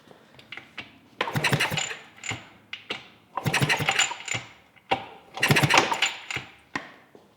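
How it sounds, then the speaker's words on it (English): A Yamaha dirt bike engine cranked fast to test for spark: three rapid bursts of mechanical chattering turnover, each lasting about a second, close and loud, separated by short pauses without any voices. "I'm going to crank it real fast"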